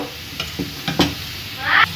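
A fried onion tempering hisses as it is poured into a pot of village-style sambar and stirred, giving brief sizzling bursts and spoon clinks close by, with a sharp hiss near the end.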